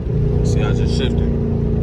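A car engine, likely a Dodge SRT, hums loud and steady as it accelerates in third gear, heard from inside the cabin, with a person talking over it.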